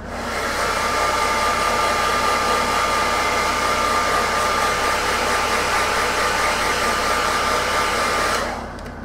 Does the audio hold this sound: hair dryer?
yes